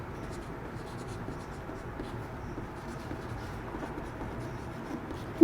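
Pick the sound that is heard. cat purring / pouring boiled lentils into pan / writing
writing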